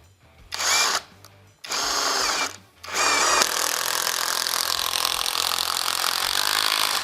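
Assur cordless nut driver whirs in two short bursts, then runs continuously at high speed while boring into material, loud and close with no talk.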